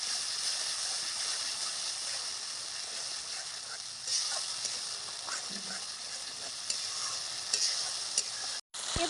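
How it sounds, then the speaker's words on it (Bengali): Spice paste with cashew paste, poppy seed paste, salt and chilli powder frying in a pan, a steady close sizzle with occasional stirring scrapes throughout. "ভালো করে ফাটিয়ে নিচ্ছি"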